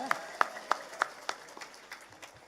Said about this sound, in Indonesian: tepuk tangan dulu luar biasa